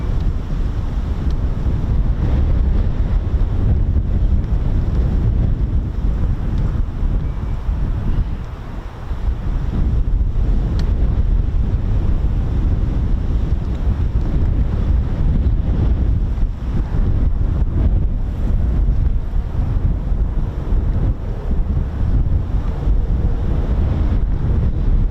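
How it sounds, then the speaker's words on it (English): Strong wind buffets a microphone outdoors at an RAF Marham airfield, a loud, continuous low roar and rumble with gusty swells throughout, with no talk. "Wow, that wind is pretty bad."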